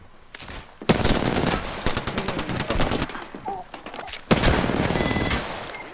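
A weapon in a video game empties a whole clip in two long, loud bursts of rapid automatic fire with a brief pause between them.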